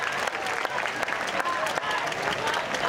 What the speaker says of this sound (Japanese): さあこの8チーム32名にどうぞ大きな拍手をどうぞ。